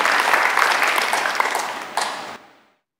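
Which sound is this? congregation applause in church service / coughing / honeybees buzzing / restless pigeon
congregation applause in church service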